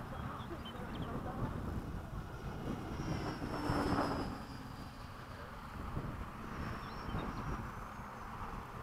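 An FMS Hawk radio-controlled model jet flies during a buddy-box training flight. It makes a steady, rushing roar with a thin high whine that rises and falls as it passes, along with wind buffeting and some voices.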